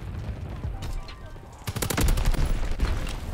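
In Call of Duty WW2, a DLC gun opens up after a quieter stretch with a loud, fast automatic burst, the dense repeating shots close and sustained to the end.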